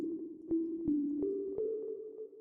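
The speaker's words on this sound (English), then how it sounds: "sine wave with FM noise" A synthesized sine-wave tone with FM noise holds a steady, slightly unstable pitch that steps upward a few times, with faint glitchy clicks scattered through it, heard alone.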